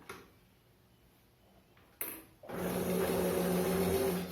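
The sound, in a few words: sewing machine stitching a protective face mask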